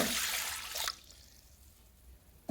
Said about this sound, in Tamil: ஒரு ஓசி எடுத்துங்க. கொஞ்சமாக தண்ணி ஊற்றிங்க.